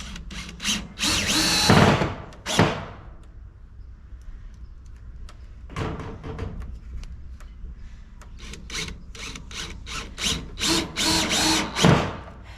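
A power drill drives screws into a wooden raised bed frame, with several loud whirring bursts of varying length separated by quieter pauses and handling noise, no talk.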